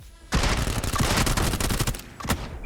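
Shotgun fire in the battle royale game PUBG, a loud burst of rapid overlapping gunshots followed by a few more scattered shots, close and with no voices.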